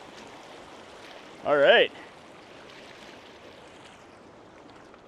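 A creek runs at a hiking trail crossing in a steady, broadband rush that lasts throughout, with a voice speaking briefly over it.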